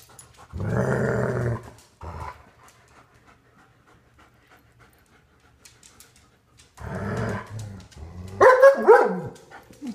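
Dogs pant heavily and growl nearby, with two long bursts of rough panting separated by a quiet stretch and a sharper growling, barking outburst near the end.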